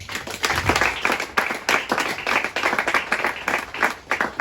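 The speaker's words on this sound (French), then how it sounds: "Est-ce que vous pouvez acclamer pour vous-même?" A crowd of workers gathered for a May Day 2024 celebration claps and cheers, a dense steady wash of hands with rhythmic bursts running throughout, fairly loud and close.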